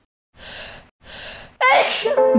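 A close, loud sneeze: two breathy inhales followed by a sharp explosive burst, with no talking.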